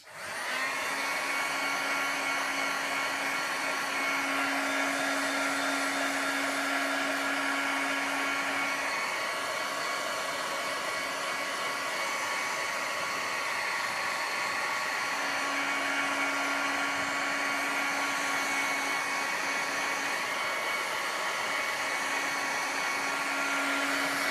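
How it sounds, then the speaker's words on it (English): A heat tool blows hot air over a cardmaking background, producing a loud, continuous, steady whirring drone like a hair dryer that runs unbroken for over twenty seconds with slight changes in pitch. "I'm going to just hit this with the heat tool again, so turn your volume down if you need to"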